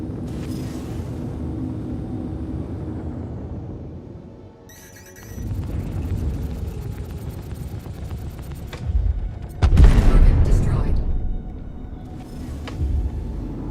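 A destroyed monitor ship explodes in the space game Star Citizen, a deep rumbling boom swelling after a brief lull and peaking with a heavy blast, then tailing into continued low roar.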